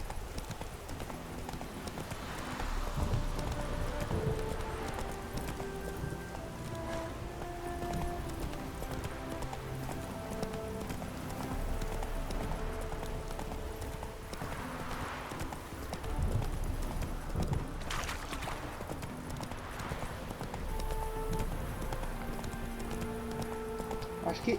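A horse trots in The Witcher 3 video game with a steady, rhythmic clip-clop of hooves that goes on throughout, under a low bed of game music and ambience, with someone talking over parts of it.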